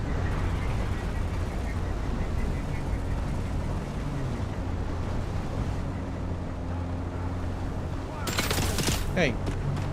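Enemy gunfire in the Dune Awakening video game crackles as bursts over a dense, rumbling game soundscape, with a sharper crack near the end.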